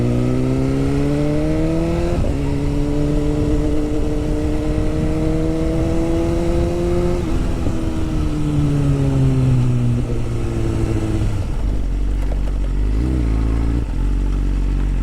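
A 2025 BMW S1000RR Pro motorcycle is ridden, its engine note climbing through gears in loud, steady tones before abruptly dropping as the bike brakes hard to a stop, leaving a low idle rumble.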